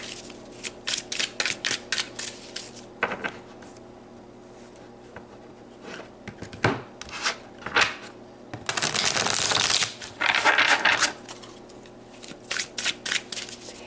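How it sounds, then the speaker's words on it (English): A deck of tarot cards riffled and shuffled in bursts of crisp flutters, with separate slaps and snaps as single cards are pulled and laid down, close and fairly loud in a quiet room. "So let's pull some more cards."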